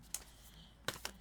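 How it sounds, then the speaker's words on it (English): A few sharp, crisp clicks and riffles of cards being shuffled, in short bursts separated by quiet pauses, close and fairly soft. "let me begin shuffling"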